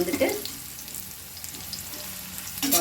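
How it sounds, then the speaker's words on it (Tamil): Sliced bitter gourd frying in a pan gives a soft, continuous sizzle close by, with a couple of brief stirring scrapes at the start and the end. "இன்னும் கொஞ்சம் கூட லைட்டாக ஃப்ரை ஆகட்டும்"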